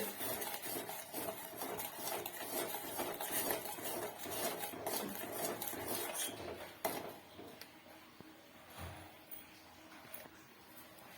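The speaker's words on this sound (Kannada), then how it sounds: "ಗಂಟಿ ಇರೋ ರೀತಿ ಕಲ್ಸ್ಕೊಳ್ಳಿ" A spoon scrapes and clinks steadily against a metal pan while a hair-dye mixture is stirred on a gas stove, a continuous close rattling with no talk.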